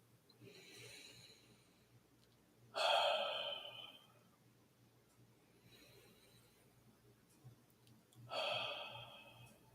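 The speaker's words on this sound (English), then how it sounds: "let's take a deep breath" Two slow, deep breaths drawn in during a guided relaxation exercise, each a soft breathy rush that swells and fades, with quieter exhales between them in a calm, hushed room.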